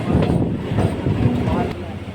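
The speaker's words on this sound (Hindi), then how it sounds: "स्टेशन से हमारा डिपार्चर हो रहा है बागपत रोड रेलवे स्टेशन से।" A passenger train pulls out of Baghpat Road railway station. It makes a loud, steady rumble with rhythmic clacking of the wheels and gusts of wind noise, heard close and continuous.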